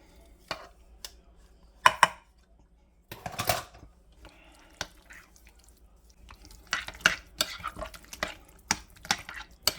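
A spoon works sugar into mashed sweet potatoes for a casserole, with soft squishy stirring, a few sharp clinks against the bowl, and a busier flurry of scraping toward the end, close and alone.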